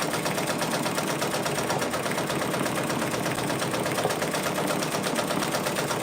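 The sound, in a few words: Brother Persona PRS100 embroidery machine stitching patches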